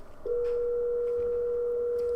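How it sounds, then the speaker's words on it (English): A telephone rings in a home with a steady electronic tone that starts abruptly and holds loud and continuous. "looks like we have a phone call."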